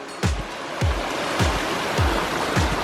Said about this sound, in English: it was pretty incredible to sleep all night in that little cabin with this sound of this waterfall